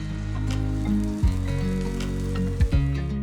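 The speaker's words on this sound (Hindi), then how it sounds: "फिर डाल देंगे हरा प्याज, इसको भी थोड़ा सा चला लेंगे" Green onion stir-fried in a wok with ginger, garlic, long green chillies and dried red chillies for Schezwan sauce gives a constant close sizzling hiss over a low hum, with a couple of brief stirring knocks.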